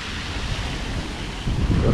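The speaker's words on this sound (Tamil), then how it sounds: "இந்த தண்ணி பறக்கிறது நல்லா இருக்குது." Water thrown into the air from a fountain feature near Colombo's Lotus Tower makes a continuous rushing, splashing wash mixed with wind buffeting on the microphone, loud and close, swelling near the end.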